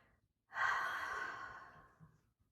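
A single forceful exhale during vinyasa yoga breathing, a strong close breathy rush that tapers off over about a second and a half, heard alone with no talk.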